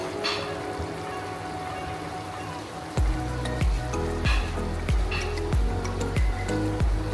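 Pieces of bhetki fish drop into a boiling red curry, each landing as a low thud or splash over a constant bubbling sizzle, repeated roughly every half second after a quieter start.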